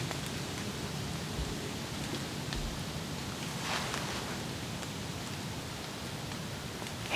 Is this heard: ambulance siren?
no